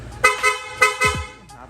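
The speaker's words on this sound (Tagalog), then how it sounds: "Tapos, pa-activate naman ang loud horn sir." A loud PIAA dual horn on a Honda ADV160 motorcycle blasts in several short, sharp honks, one after another, close by.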